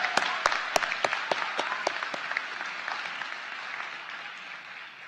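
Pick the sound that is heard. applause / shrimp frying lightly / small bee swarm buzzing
applause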